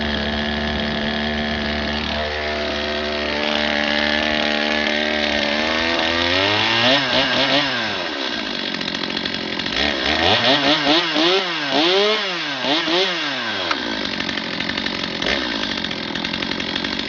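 A Stihl chainsaw runs close by, its engine revving up and down in repeated surges between a rough idle and high whine, loud and continuous with no talk.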